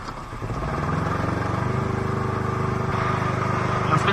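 An Aixam microcar pulls away from a standing start, its small engine droning steadily and rising slightly in a continuous, fairly loud hum heard from inside.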